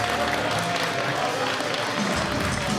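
An indoor crowd at a full match applauds and cheers Man Like Dereiss after the bout, a dense, loud wash of clapping and crowd noise that continues throughout.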